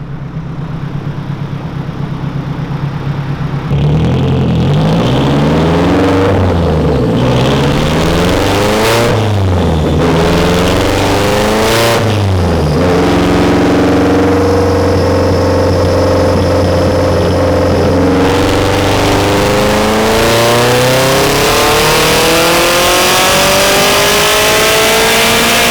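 A Nissan Skyline DR30 engine revs loudly and repeatedly up close, with rising and falling sweeps that climb into a long sustained high rev after a quieter idle at the start.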